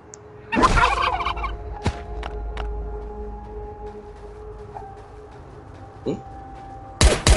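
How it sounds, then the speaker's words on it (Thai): Chickens cluck and squawk in the survival video game Last Day on Earth. A loud burst comes first, followed by scattered clucks and a sudden sharp squawk at the end, all over a faint steady game hum. "เฮ้ยไก่อีกแล้ว"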